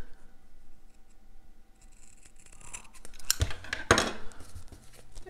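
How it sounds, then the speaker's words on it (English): Scissors cutting through a sticker sheet from a floral sticker book: a faint snip-and-rustle rises midway, then two sharp, close crunching cuts near the end in an otherwise quiet room. "We use the scissors."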